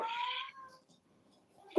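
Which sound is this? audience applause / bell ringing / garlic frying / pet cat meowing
pet cat meowing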